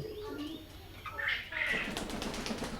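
Pigeons at a pigeon farm coo and chirp nearby with a brief flurry of wing flaps, fairly quiet, while a person talks over them.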